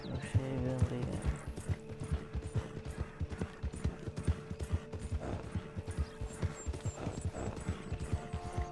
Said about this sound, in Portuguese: O cavalo tá cansando e vai devagarzinho